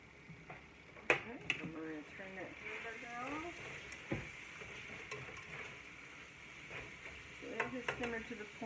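Taco meat frying in butter in a pan, stirred with a utensil: steady sizzle with scraping stir strokes and a few sharp clinks against the pan, while someone talks over it.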